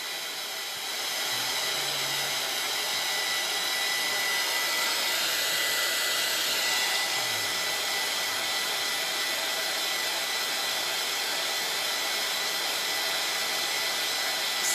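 A hair dryer blows steadily to dry chalk paint on a craft board, a continuous close airy whoosh running nearly the whole time without pause.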